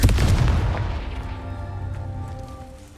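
Confringo fire spell exploding in Hogwarts Legacy gameplay: one loud, close boom that hits at once and fades out over a few seconds into a ringing, rumbling tail.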